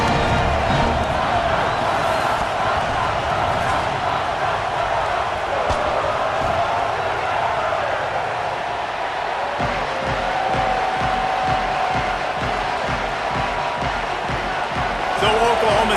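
Steady stadium crowd roar in a college football video game, Oklahoma State at BYU at a high-elevation home field, a dense continuous wall of crowd noise with rhythmic chanting or clapping pulses joining in the second half.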